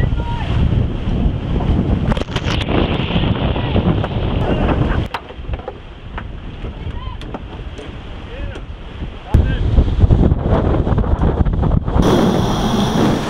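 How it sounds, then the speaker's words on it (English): Aboard a sailing boat at sea, loud wind buffets the microphone over the rush of waves, a constant roaring wash that dips briefly midway and swells again near the end. "It's nice to have a bit of breeze."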